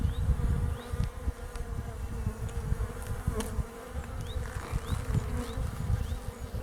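Honey bees buzz steadily over a hive frame during a colony inspection, a dense close hum with a few brief higher whines of individual bees passing near.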